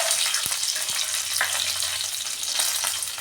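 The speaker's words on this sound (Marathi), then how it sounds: "शेंगदाणे छान खमंग असे तळले गेले की मग नंतर आपण पुढचे साहित्य टाकणार" Peanuts frying in oil with a cumin and mustard seed tempering, heard as a steady close sizzle with a few sharp pops and light stirring clicks, no talking.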